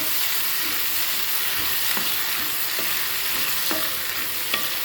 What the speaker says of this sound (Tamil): இப்போங்க ரெண்டு நிமிஷம் எண்ணெயில் கத்திரிக்காயை வதக்கி விட்டுக்கலாங்க